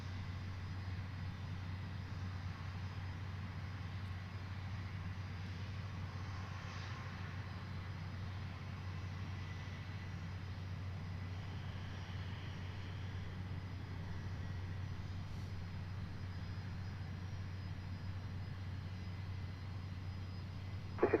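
A NetJets private jet idles at Boeing Field, a steady, fairly faint low engine hum and whine heard from a distance throughout, with no talk.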